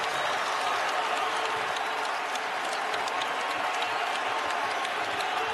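A large basketball arena crowd stands and applauds, producing a dense, steady wash of clapping and cheering that stays loud and even throughout with no clear voices above it.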